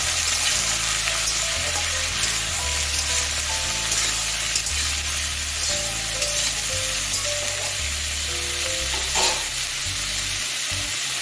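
Cauliflower and other winter vegetables frying in a pan with black cumin tempering, a loud continuous dense sizzle and crackle close up, unbroken throughout with a faint stir near the end, no talking.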